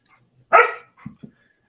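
A female dog gives one sharp bark followed by two short, softer low woofs, close by, with silence between and no talking.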